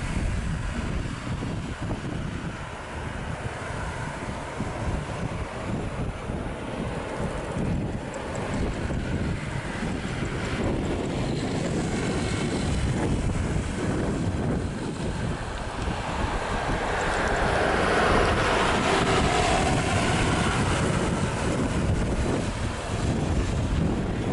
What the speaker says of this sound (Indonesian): Anginnya kencang bet.